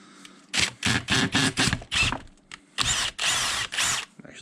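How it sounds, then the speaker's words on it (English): A powerful electric drill bores through PVC pipe while a non-metallic sand scoop is being made, running in loud, close bursts: about five quick whirs, a short pause, then three more. "this is a very powerful drill here."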